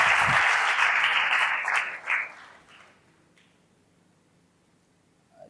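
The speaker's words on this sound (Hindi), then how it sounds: "एक बार मैं आप सबसे चाहूँगा कि इनका जोरदार तालियों से आप स्वागत करें।" An audience at a talk by an IAS officer claps loudly for a couple of seconds to welcome a speaker, then the applause fades into near silence with scattered last claps.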